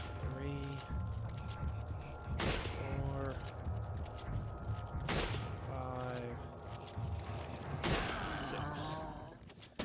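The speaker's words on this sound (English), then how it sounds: "There's 2 shots." Three loud, isolated gunshots ring out in Resident Evil 4, spaced a few seconds apart over game ambience, with tonal groans or creature sounds between the shots.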